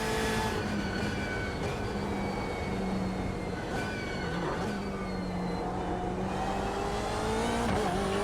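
A race car in the iRacing simulator pulls out of the pits at the updated Barber circuit, its engine a steady droning whine with shifting pitch and rev changes, heard continuously and close throughout.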